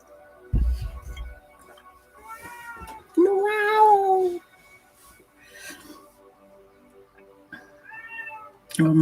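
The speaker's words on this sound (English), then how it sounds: "Oh my God, meow." A cat meows twice, a short call followed by a longer drawn-out wail, close and clear over a quiet room with faint background sounds.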